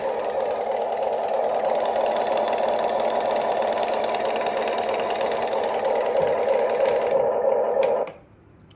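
A Huina full-metal RC excavator's motor runs steadily with a continuous close whirring hum for about eight seconds, then cuts off abruptly into near silence.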